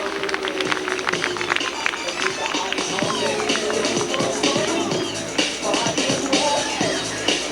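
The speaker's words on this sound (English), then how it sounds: "Let's have a big round of applause for Hawkeye Pierce, played by Jeff." Audience applause at a water ski show, a crowd clapping in a dense, sustained patter with scattered cheers and babble, fairly loud and continuous throughout.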